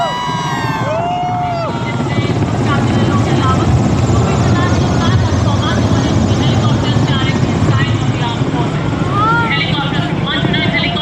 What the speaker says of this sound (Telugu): పైనుంచి అయితే హెలికాప్టర్లు అనేవి వచ్చి మన మీద అయితే పూల వర్షం కురిపించాయండి